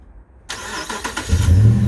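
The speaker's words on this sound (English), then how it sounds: "There's a truck also has a remote start." A 2013 Ram 1500 SLT 4x4 pickup with a modified exhaust starts by remote: near-silence, then a sudden crank and catch into a deep, loud rumble that swells as it settles.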